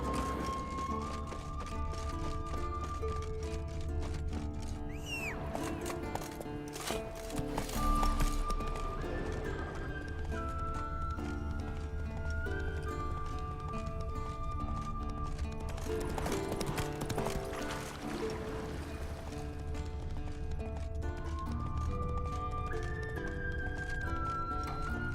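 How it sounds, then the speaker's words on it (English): Horse hooves clip-clop steadily on ground in The Witcher 3, a continuous rhythmic trot under game music and ambience, with a whinny and other game sounds rising mid-stretch. "That's his horse."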